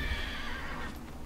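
A horse in the video game Neverwinter gives a single loud, close whinny that fills the whole short moment, with a faint clip-clop of hooves underneath and no talking.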